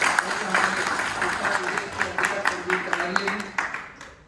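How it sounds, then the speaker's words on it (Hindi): Audience applause at a political gathering in Ghaziabad, moderate and continuous with scattered claps, mixed with crowd noise and some background talk. "संदीप कटारिया जी के लिए जोरदार ताली हो जाए"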